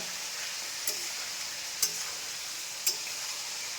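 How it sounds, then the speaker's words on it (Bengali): Chicken meat fries in pure mustard oil in a wok, giving a soft continuous sizzle close by, broken by three sharp scraping stirs spaced about a second apart. "খাটি সরষা তেলে মাংস ভাজা হচ্ছে"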